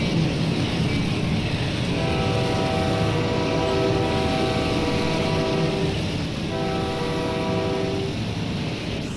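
Air horn of an MLW CN M-420 diesel locomotive in Train Simulator Classic, sounding two loud sustained chords over steady engine rumble, each blast tapering off with a brief wind-down.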